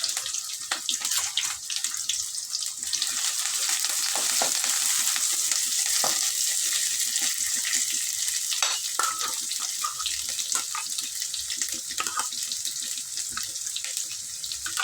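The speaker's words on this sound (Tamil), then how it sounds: "கட் பண்ணி 2 வெங்காயம் போட்டுக்கிறேன்." Onions and curry leaves fry in a pan with a constant bright sizzle and crackle, close and even throughout, with occasional stirring clicks and scrapes.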